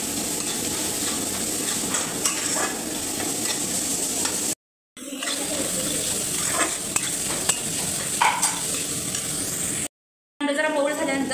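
Chopped onion sizzles steadily in a hot pan for poha while a spoon stirs and scrapes against the metal, a continuous close frying hiss broken by two short silent gaps.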